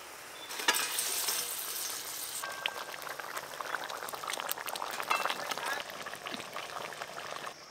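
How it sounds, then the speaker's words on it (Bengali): Fried pond hilsa fish goes into a bubbling, spicy gravy with green chillies and water, producing a steady close sizzle and simmer with soft stirring and liquid sounds throughout. "ভাজা মাছ দেব এবার"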